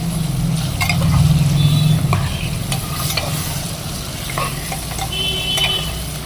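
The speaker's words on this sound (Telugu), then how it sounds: "కలుపుదాం ఒకసారి" Chicken curry is stirred in a pot, with loud, continuous scraping and churning over a hot sizzle that stays steady throughout, without any talk.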